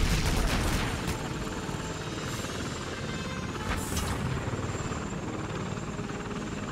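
The Joker's helicopter in the Lego Batman video game gives off a steady whirring rotor drone with rapid chopping, loud and continuous throughout, with a couple of brief sharp bursts overhead.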